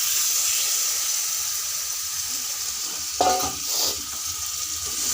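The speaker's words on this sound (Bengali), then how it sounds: "মশলা কষিয়েছি, তেল ছেড়ে দিয়েছে মশলা গা থেকে। এখন আমি চিকেনটা দিয়ে দিচ্ছি।" Chicken pieces drop into spiced masala frying in oil, a steady hiss of sizzling broken by a sharp burst of spattering and stirring near the three-second mark, then settling back to an even fry.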